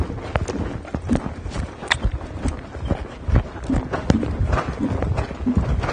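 Horse cantering in a dressage arena, rhythmic hoofbeats thudding close and loud in a steady three-beat pattern, with faint creaks of tack and almost no talk.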